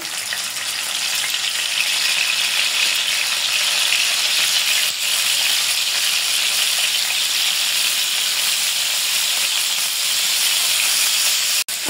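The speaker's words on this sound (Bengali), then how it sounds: "তেল গরম হয়ে গেছে, মাছগুলোকে ভাজতে নেব।" River kalia fish, rubbed with turmeric and salt, fries in hot oil with a loud, continuous hissing sizzle that barely changes across the whole stretch, heard alone without speech.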